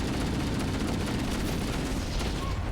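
Dense, continuous rumbling blasts from chain explosions going off together in the Halo: Combat Evolved PC game, a loud sustained roar of overlapping booms with no clear gaps.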